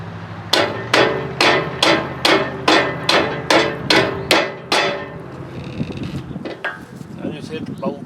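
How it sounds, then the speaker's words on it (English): A hammer taps a stuck bolt on a Massey Ferguson MF 25 hay rake under repair: about ten sharp, evenly spaced metallic strikes, close and loud, then a few scattered lighter knocks and handling noise. "Just going to tap on this thing."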